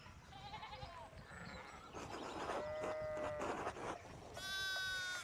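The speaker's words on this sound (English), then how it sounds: "One of the fence rails fell and the sheep started hopping it." Sheep bleat in the Pentiment video game, with several calls over a farm ambience and a louder, harmonically rich bleat near the end.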